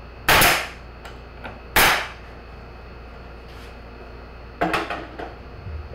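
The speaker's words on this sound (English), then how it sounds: "so we'll just shoot this in. With some nails." A pneumatic nail gun drives nails into the wooden parts of a beehive, firing two loud, sharp shots close together and then a softer burst toward the end, with no talking.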